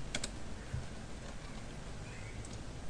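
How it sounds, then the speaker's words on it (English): Someone types a password on a computer keyboard, a few faint, quick key clicks over a quiet background hiss. "just run once again and type the password 12345."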